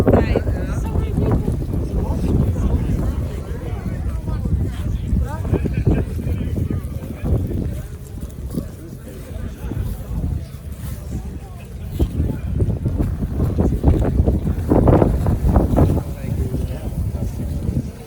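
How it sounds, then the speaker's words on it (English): Strong outdoor wind buffets the microphone in a park, a steady loud rumbling roar with gusts, while people talk nearby. "So windy on the other side."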